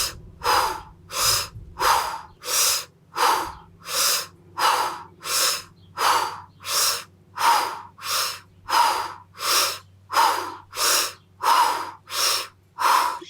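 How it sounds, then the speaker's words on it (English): Steady rhythmic breathing exercise, about sixteen forceful inhale-exhale cycles through the mouth, each breath a loud close whoosh at an even pace, with no speech. "we're going to inhale and exhale through the mouth for 10 counts, then we're going to hold for 10 seconds"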